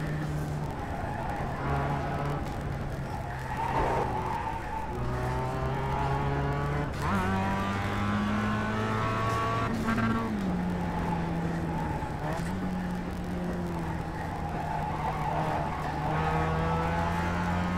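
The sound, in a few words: tires squealing in iRacing video game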